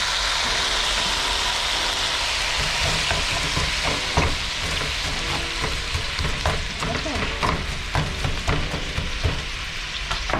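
Shrimp sizzle steadily in a hot pan with browned garlic, a constant hiss with scattered crackles and pops growing sharper as the frying goes on, close and fairly loud with no talking.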